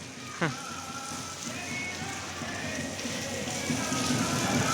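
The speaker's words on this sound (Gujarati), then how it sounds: "તો વરસાદ ચાલુ છે" Rain patters steadily in the background at a temple, a soft continuous hiss, with a brief sharp sound near the start and faint murmurs of devotees.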